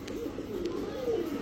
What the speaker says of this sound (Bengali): দুইটাই নর, ইংলিশ বারভুমা, দুইটাই নর কবুতর